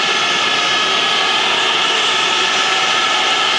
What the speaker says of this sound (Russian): Потому что в спортгалле от того невообразимого шума, который поднимают литовские болельщики, мажет Джей.